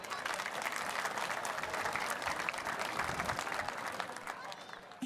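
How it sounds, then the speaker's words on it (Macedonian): Audience applause at an ethnic folk festival, a sustained dense patter of many hands clapping that fades slightly toward the end. "а и еден аплауз."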